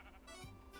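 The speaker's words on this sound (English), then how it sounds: "Hey, get the sheep away, get the sheep away. You're going to eat my grass." A sheep bleating in Minecraft, a short, faint, nasal game bleat with no talk over it.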